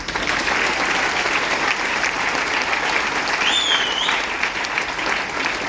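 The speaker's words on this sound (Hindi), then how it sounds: "तो एक बार जोरदार ताली" A training-session audience claps loudly and steadily for several seconds, a dense continuous wash of applause with no break.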